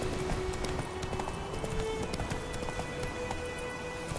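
Geralt's horse Roach galloping in The Witcher 3, a steady rapid clip-clop of hooves running continuously and close under a constant layer of ambient game noise.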